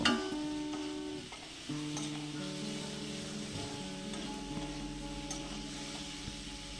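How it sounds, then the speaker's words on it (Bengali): Potatoes fried with salt and turmeric hiss in a pan, a soft steady sizzle with occasional stirring scrapes, while sustained tonal hum lines run underneath; quiet and fairly close, with no talking. "নুন হলুদ দিয়ে আলুগুলোকে বেশ ভালো করে ভেজে নেব।"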